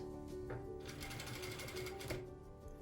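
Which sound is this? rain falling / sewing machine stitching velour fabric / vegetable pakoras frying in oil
sewing machine stitching velour fabric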